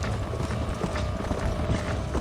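Horse hooves in the Red Dead Redemption video game: continuous rapid clip-clop of galloping over a busy game soundscape, with faint background clatter and no talk.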